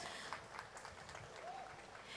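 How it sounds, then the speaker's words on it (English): An audience at a festival applauds after a dance performance, with steady, fairly faint clapping throughout and a brief tonal squeak partway through. "how about a round of applause for their performance?"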